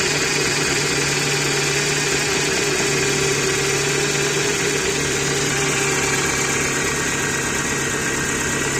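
A steady, constant hum from the power steering pump of a Ford Focus 2 with the 1.6 engine, close and continuous as it runs, with no talk over it.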